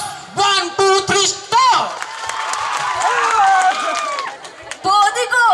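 A group of boys claps hands together at a Ganesh Puja celebration, producing a sustained, loud burst of applause-like clapping in the middle, framed by shouted voices at the start and end.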